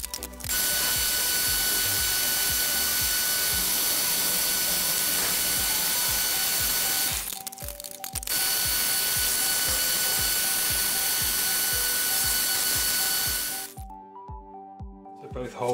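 A milling machine drilling pilot holes whines steadily with a rapid mechanical chatter, briefly cutting out midway, then winding down near the end.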